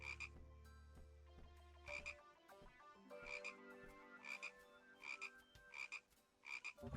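A video game frog croaks in short bursts, roughly one every second or so, over a low tonal music bed that fades out early, bright and close with no talking.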